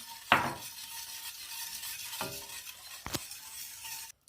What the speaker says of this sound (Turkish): Şimdi 2 su bardağından biraz az şekerimi ilave ediyorum ve çırpmaya devam ediyorum.